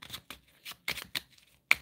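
Tarot cards being shuffled and drawn by hand, a series of short crisp riffles and slaps in an irregular rhythm, close and alone with quiet gaps between bursts.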